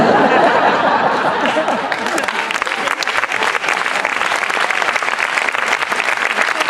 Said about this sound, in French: C'est gentil d'applaudir